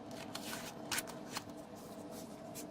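Paper slid out from behind the glued joint of a garden railway twin-track bowstring bridge kit, a brief dry rustle and scrape rising at about one second over a quiet papery background, no talk.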